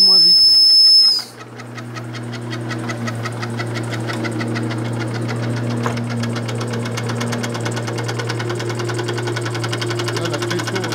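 A small model steam engine runs steadily as its wheel turns, a continuous hum with fast rhythmic chuffing and a faint whistle-like hiss at the start, close and fairly loud throughout.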